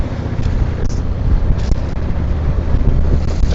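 Coastal wind between Combe Martin and Shipload Bay buffets the microphone with a loud, continuous rush and brief gusts.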